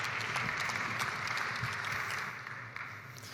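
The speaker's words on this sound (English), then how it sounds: "Please give him and his panel a very warm round of applause." Audience at an aviation gender-equality conference session applauds the moderator and panel, dense sustained clapping from a large crowd that tapers off toward the end.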